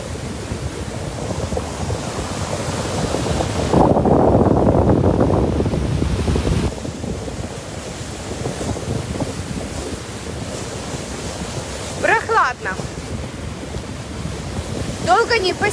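Steady gusty wind rushing across the microphone on the Dnieper riverside near a river port, loud and continuous, with a stronger blast partway through and brief voices near the end.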